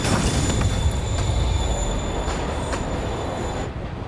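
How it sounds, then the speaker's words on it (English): A train rolls along in Spider-Man Remastered, a steady loud rumble of wheels on rails with high squealing tones and occasional clanks, no voices. "Train's moving."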